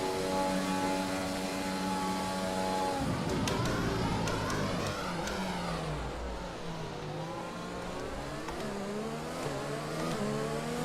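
A Formula 1 race car in the F1 2020 video game at the Vietnam Grand Prix screams loudly and continuously, its high engine pitch sweeping up and down through rapid gear changes, with no voices over it.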